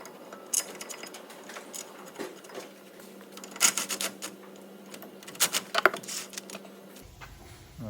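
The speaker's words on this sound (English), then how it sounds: "we'll just run the main bolts in lightly" Front brake carrier bolts being run in by hand on a Ford Transit Custom van, with close, intermittent metallic scraping and ratcheting clicks in short irregular bursts.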